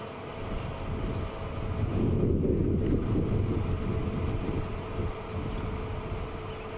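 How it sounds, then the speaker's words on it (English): Low, blustery wind rumbles against the microphone on an evening safari drive, swelling briefly in the middle before settling back to a steady outdoor rush. "the wind through a camera doesn't sound quite the same as it does in reality"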